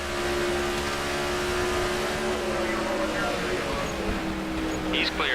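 A NASCAR 15 race car engine drones loudly and steadily close by, with other cars roaring around it during the race, the pitch rising near the end as another car closes in from behind.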